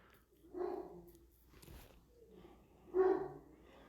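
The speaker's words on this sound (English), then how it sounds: "sorry about the barking." A dog makes a few muffled barks and low woofs at moderate distance, two stronger ones spaced a few seconds apart, in an otherwise quiet room.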